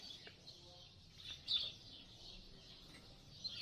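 Birds sing faintly at the ancient ruins of Apollonia, outdoors in the open air, with scattered high chirps and tweets over quiet ambient background.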